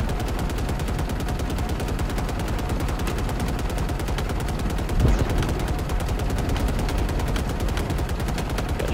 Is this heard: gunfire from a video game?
yes